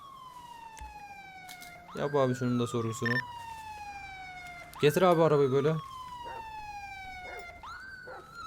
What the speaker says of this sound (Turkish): Kod 2 çağırdım lan bunlar niye sirenli geliyor.